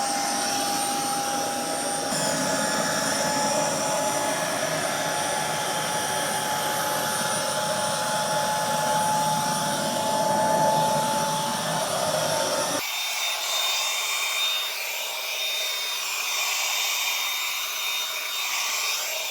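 A Narwal Freo Z10 Ultra robot vacuum cleaner runs with a loud, steady suction roar and high whine, then abruptly shifts to a thinner, lighter hiss as its suction power changes.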